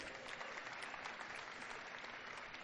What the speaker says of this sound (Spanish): Entonces démosle un aplauso a Raúl